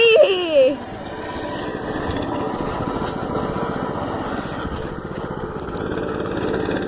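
A mini bike engine runs steadily nearby with a buzzing, rumbling small-engine drone, preceded by a brief high voice at the start.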